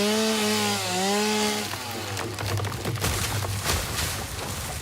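A chainsaw in the video game Satisfactory starts with a rising whine, then settles into a loud, rough buzzing rattle that runs continuously and close up.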